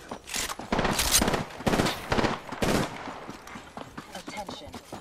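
Gunfire in a battle royale video game comes in several loud, sharp bursts of rapid shots with brief gaps between them, tapering to quieter scattered shots near the end.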